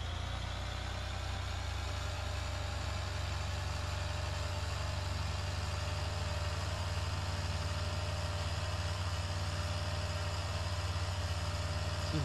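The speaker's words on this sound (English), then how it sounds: "Doesn't seem like the fastest tractor in the world" A tractor engine in Farming Simulator 2013 runs steadily throughout, a low droning rumble with a constant pitch, loud and close with no voices over it.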